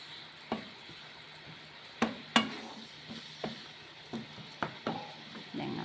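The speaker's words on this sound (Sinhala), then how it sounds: "දැන් ඉතින් මේ පොඩ්ඩක් සීනි ටික උරා ගන්නකම් හැඳි ගන්න ඕන" A spoon stirs grated coconut with salt and sugar water in a pan, making soft scraping and clinking strokes at irregular intervals over a quiet, faintly hissing background.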